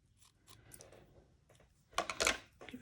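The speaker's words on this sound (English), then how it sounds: "Maybe just this curtain stuff, I could just cut it" Scissors cutting curtain fabric for a handmade junk journal: a run of soft, quiet snips and rustles, then a louder, close burst of crisp cutting near the end, with no talk.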